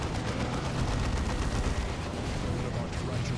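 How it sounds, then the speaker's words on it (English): Rapid gunfire from a tarantula sentry turret shooting at enemies in a battle video game, a dense continuous loud barrage under game sound with no gaps. "One of our tarantula sentry turrets is on the enemy."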